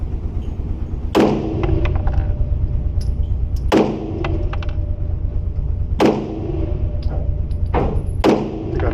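Four sharp single shots from a Sig Sauer P320 X5 SXG pistol fired at a target 30 feet away, spaced a couple of seconds apart, each a loud crack with a short ring over steady background hiss.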